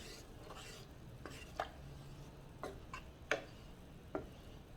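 Heavy whipping cream and cheese are stirred together in a pan, with a soft continuous simmer and a few distinct spoon taps and scrapes spaced out across the clip, close and fairly quiet, with no talk.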